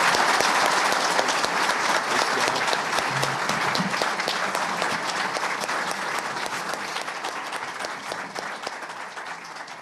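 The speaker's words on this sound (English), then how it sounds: "Let's please give them a warm round of applause." Audience applause for sheriff's deputies at a candidates' event in Door County, Wisconsin: steady, dense clapping from a sizable crowd, sustained throughout and slowly easing in loudness toward the end.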